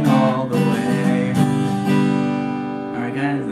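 Guitar strums the Jingle Bells chords in a steady rhythm of repeated strokes, close and fairly loud, with a voice singing the melody along with it.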